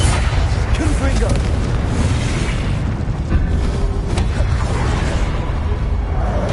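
Confringo blast spell in Hogwarts Legacy combat, loud continuous booming and crackling explosions packed densely through the whole stretch, with dueling effects layered over it.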